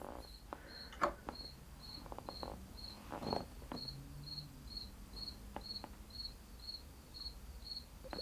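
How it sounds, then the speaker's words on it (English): Small cricket chirping in a steady, regular rhythm for the whole stretch, faint and somewhat distant indoors, with a few soft handling knocks and rustles around it. "I think there's a cricket up here somewhere."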